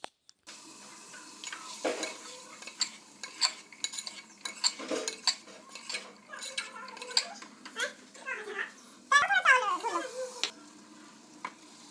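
Rice is stirred and fried in a pan for tahri with garlic, spices, potato and tomato, giving a soft sizzle broken by scraping spoon strokes and occasional clinks at close range, with no talk.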